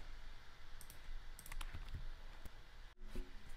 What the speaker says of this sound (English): you're gonna hear a loud keyboard.